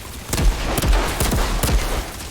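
Rifle gunfire in the Outriders video game: several loud, sharp shots in quick succession over a steady low rumble of game noise, with no talk.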